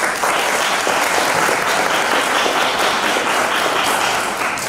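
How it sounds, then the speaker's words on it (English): Dense, loud applause from an audience at an English Day school event, continuous clapping from many hands filling the whole stretch evenly and close by. "So let's do another applause"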